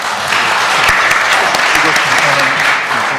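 An audience at a symposium on political and economic reform claps to welcome a presenter: dense, continuous applause from a room of people, loud and sustained for several seconds.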